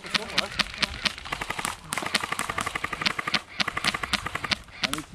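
Rapid airsoft gunfire crackles through an outdoor skirmish game, with repeated sharp shots coming in quick bursts and single pops at close to mid range, and voices heard now and then between the shots.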